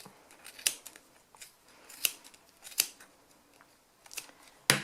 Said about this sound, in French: Je coupe bien toutes les mailles du pompon.